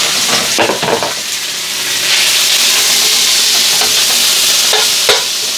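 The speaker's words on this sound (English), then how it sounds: "you want to make sure you cook the bacon until it's actually done" Bacon and sausage frying together in a pan, with a steady loud sizzle and hiss and bursts of stirring and scraping near the start and the end.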